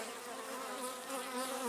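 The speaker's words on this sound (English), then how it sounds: "there is a bee hatching right now" A honeybee emerging from its wax cell in a hive frame, surrounded by the steady, close buzzing hum of many worker bees throughout, with no talk.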